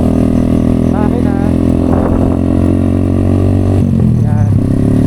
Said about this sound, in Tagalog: tinetest ko din kasi itong motor ko